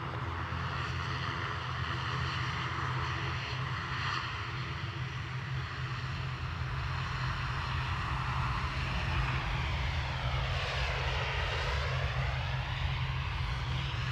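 A Ryanair airliner takes off from runway 10 right at Dublin Airport with a steady, loud jet engine roar. The pitch sweeps and shifts as the aircraft accelerates past, and no one talks over it.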